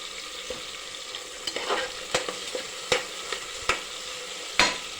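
Tomatoes frying in a pan for sambar give a steady close sizzle, broken by a handful of sharp clacks as a spoon stirs and knocks against the pan.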